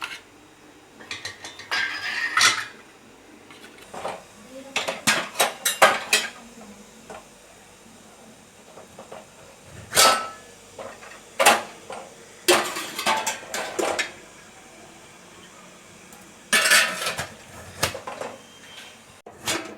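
Metal pots and lids clanking and scraping while rice balls are set up to steam, bursts of clatter separated by quieter gaps, close by.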